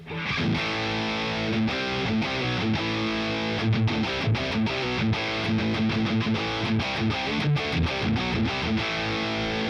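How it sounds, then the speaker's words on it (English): An electric guitar runs through the distortion channel of a Boss Katana MKII amp, producing loud, sustained high-gain crunch with rhythmic strummed and palm-muted chords throughout, no voices. "And then we got distortion."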